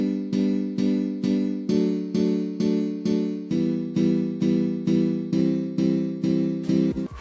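A supersaw soft-attack synth with 12 voices, graphic EQ and reverb, made in FL Studio Mobile, plays a steady run of evenly spaced chord stabs about every half second, loud and alone, changing pitch partway through.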